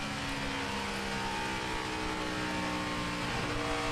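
A NASCAR Cup Series stock car at Atlanta Motor Speedway in 2008 roars at high speed through the corners, a loud continuous engine drone with steady pitch and a slight shift near the end, with no talk.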